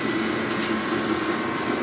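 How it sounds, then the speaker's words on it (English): A welder and a space heater run loudly together in a garage workshop, making a steady, unbroken roar with a constant hum and no clear rhythm, close and filling the space. "the welder is super loud and my heater is super loud"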